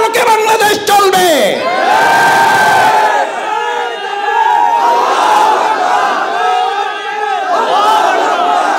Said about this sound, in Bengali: আমার এই নারায়ে তাকবীরের স্লোগান, আমার এই লিল্লাহে তাকবীর আল্লাহু আকবারের স্লোগান